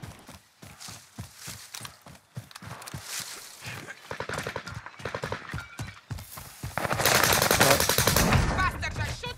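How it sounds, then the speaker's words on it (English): Rapid gunfire crackles in a first-person shooter video game, bursts of shots repeating in quick rhythm and swelling into a dense, loud volley toward the end, with voices and game callouts around it. "Bastards are shooting at me."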